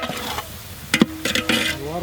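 Chicken pieces sautéing in masala in a pan for a seeraga samba chicken biryani, loud close sizzle with sharp stirring scrapes and clatters, and a faint voice in the background.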